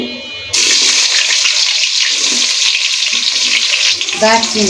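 Chopped onion dropped into hot oil in a pan while cooking chicken, a loud, steady broadband sizzle that starts abruptly and holds, with a brief stirring scrape near the end.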